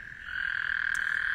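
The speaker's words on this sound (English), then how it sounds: "The green tree frog." A green tree frog, a white-lipped species, calls in one sustained, clear croaking tone, fairly quiet and alone.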